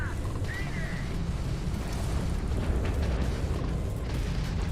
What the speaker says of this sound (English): Dumbfired rockets.